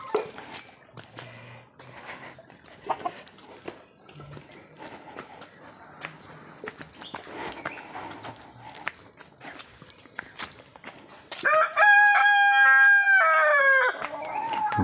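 A rooster crows at midday in a remote tribal village deep in Western Ghats forest; after quiet rustling and footsteps, one loud, near crow rings out for a couple of seconds near the end.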